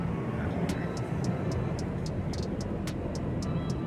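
An airplane passes overhead at a padel tournament, a steady broad engine roar filling the background while sharp ticks of balls being struck repeat irregularly on top.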